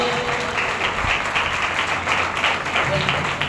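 A Sunday holy communion service congregation claps in a continuous wash of applause, moderately loud and slightly distant, with a faint low hum and voices mixed in underneath.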